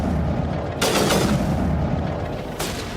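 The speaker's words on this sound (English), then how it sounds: "I should continue to use the sniper to get that guy" Two sharp, loud sniper rifle shots in Mass Effect, spaced about two seconds apart, each a bright crack over a steady rumbling combat background, with no talking.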